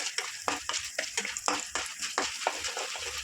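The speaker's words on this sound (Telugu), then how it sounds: "2 స్పూన్లు మినపప్పు ఈ లైట్గా ఫ్రై చేసుకుందాము" Chana dal and urad dal frying lightly in hot oil, a steady close crackle with soft stirring scrapes in the pan, no voices.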